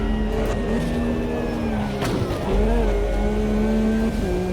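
Race cars in the Automobilista 2 video game at Bathurst, engines droning steadily with shifting revs throughout, one car passing close around the midpoint.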